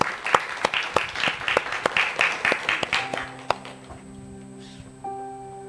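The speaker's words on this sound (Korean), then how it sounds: "박수하겠습니다." A church congregation at a Sunday service claps in a crisp burst of applause that dies out after a few seconds, leaving sustained keyboard tones ringing in the hall.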